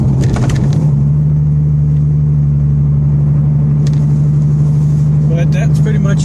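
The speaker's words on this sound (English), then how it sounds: "just so you can hear a wide open throttle in the car and some slight cruising on the highway" A car fitted with Pypes Bombs and Magnaflow mufflers drones with a deep, steady exhaust rumble at wide open throttle, heard loudly from inside the cabin, with a person briefly talking over it.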